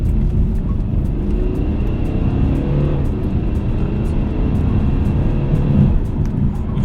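A Mercedes-Benz C220 coupe with a 170 hp turbo diesel engine pulls hard under acceleration, a steady loud low drone heard from inside the car, with a few faint ticks over it and no speech.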